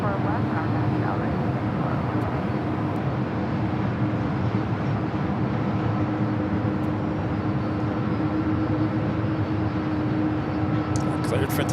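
A Singapore Airlines heavy jet takes off from runway 24 left at Los Angeles LAX, a broad continuous distant engine roar that holds steady throughout, with faint voices beneath.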